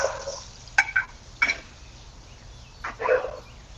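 A dog barks a few times in short, sharp bursts, fairly close, with gaps of quiet between the barks.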